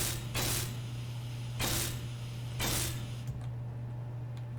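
Welding a small grid ship in Space Engineers produces three hissing, spray-like bursts over a constant low electrical hum, then fades to just the hum.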